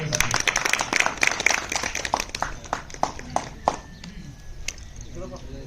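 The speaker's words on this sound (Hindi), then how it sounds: "जोरदार तालियों से।" Audience clapping welcomes guests at a flag-hoisting ceremony held at a residential primary school, a loose round of claps with scattered louder hits that thins out toward the end.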